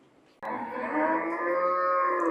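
A single cow lets out a long, loud, steady moo in a farm shed housing cattle being fattened for Eid al-Adha sacrifice, starting abruptly after near silence and holding close and full for about two seconds.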